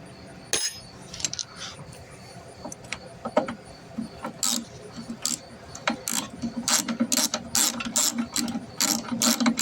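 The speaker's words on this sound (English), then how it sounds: "get the wrench on there all the way" A ratchet wrench works bolts loose from a very dirty carburetor, clicking in quick uneven bursts with short pauses between strokes, close and clear in a quiet workshop.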